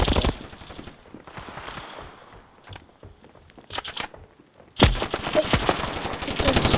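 Rapid bursts of gunfire in the mobile game Standoff 2, scattered shots early on, then a dense, loud stretch of continuous automatic fire toward the end.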